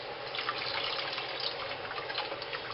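Pinto beans are rinsed under running water in a pot, a steady splashing, trickling flow with faint dripping textures, close and continuous without speech.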